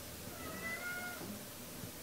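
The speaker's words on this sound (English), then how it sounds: "if you're wondering the meowing in the background" A cat meows faintly in another room, a single drawn-out meow in the background of a quiet indoor kitchen scene with no talking.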